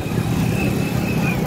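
Slow road traffic in Farrukhabad in the early evening, heard from a moving motorbike: a steady, fairly loud engine and road rumble with a thin whine above it, continuous for the whole stretch.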